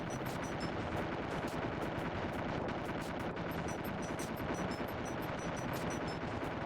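Rapid, continuous bursts of gunfire from the SNES game Time Slip, a dense rattling stream of shots that holds steady for several seconds with no talking.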